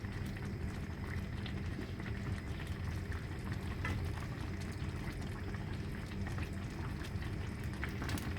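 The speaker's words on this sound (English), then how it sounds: "we will let the chicken to be boiled for almost 5 minutes in the higher flame" Chicken karahi boiling over a high flame, a faint, steady bubbling and simmering sizzle from the pan that runs on without pause, with no talk.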